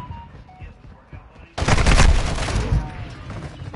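A loud burst of rapid automatic gunfire in Call of Duty breaks in after quieter background noise and voice, staying close and dense before tapering slightly.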